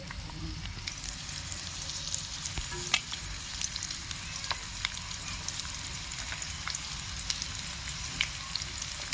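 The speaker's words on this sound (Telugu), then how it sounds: "ఉల్లిపాయ అయితే వేసేసుకుందాం." Onions fry in hot oil for a chicken curry, giving a steady, close crackling sizzle with scattered pops and occasional stirring, no voices.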